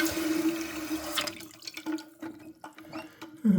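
A toilet's fill valve refills the tank while the float is being adjusted, a steady rush of running water with faint splashing throughout, loud and close, briefly surging at the very end.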